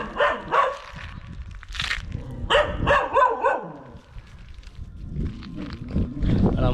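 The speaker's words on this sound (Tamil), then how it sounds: "இந்த டாக் தான்." A dog that had a bent leg barks at a fitness club in Theni, giving several sharp barks and yips in short bursts against a busy background hum.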